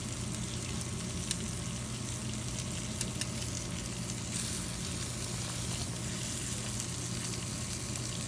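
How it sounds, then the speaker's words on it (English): Steaks searing on a grill, a constant crackling sizzle of hot fat with occasional sharper pops, heard alone and fairly quiet throughout. "You want to give these a hard sear,"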